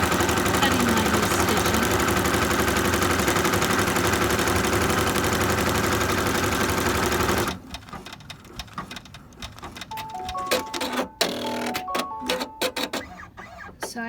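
An embroidery machine stitches a cutting line around a knit appliqué, a dense, steady rapid mechanical rattle heard close up for about seven seconds before it stops, leaving quiet room sounds with faint scattered clicks and handling noises.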